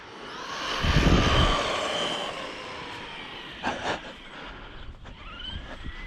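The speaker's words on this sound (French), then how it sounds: "j'ai mis un moteur 40-74 à bord au lieu du moteur 36-70" A model airplane fitted with a 40-74 motor in place of the usual 36-70 drones steadily overhead in an open field, swelling loudly at first and then easing to a thinner, more distant buzz.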